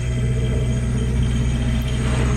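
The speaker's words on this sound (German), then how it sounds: "Deswegen motoren wir." A sailboat motoring under engine power at dawn in calm, windless conditions between Tenerife and La Gomera, giving a steady, continuous low engine rumble with no talk.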